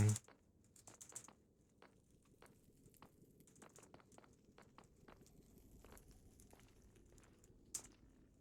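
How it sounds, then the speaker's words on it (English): A computer keyboard clacks in quick, uneven taps, close and fairly quiet over a low background murmur, with a slightly louder burst near the end. "Can you hear my keyboard clacking?"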